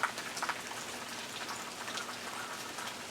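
Steady rain falls outdoors as a faint, even hiss with a few scattered drops ticking close by on a rainy Sunday in the American South; no voices are heard.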